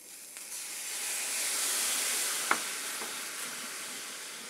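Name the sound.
water poured gradually into hot brown-sugar caramel, sizzling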